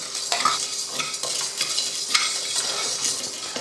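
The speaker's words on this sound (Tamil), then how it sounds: "அடுத்ததாக அரிசி, உளுந்து, அப்புறமா கடலைப்பருப்பு 3யுமே நல்லா பொன்னிறமாக வறுத்துடுவோம்" Rice, urad dal and chana dal roasting in a pan, with a continuous dry rustling, stirring scrape and light sizzle close by, fairly even throughout the short stretch.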